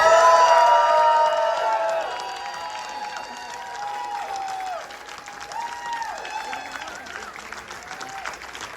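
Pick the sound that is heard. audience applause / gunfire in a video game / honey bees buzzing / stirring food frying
audience applause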